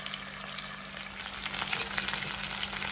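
Food with onion sizzles and crackles steadily in a frying pan, a close, continuous hiss that grows slightly busier toward the end, with no talking.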